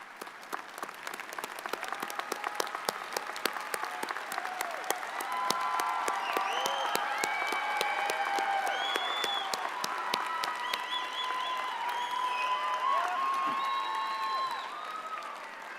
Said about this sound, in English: Let's have some thunderous applause for those who've been able to support you.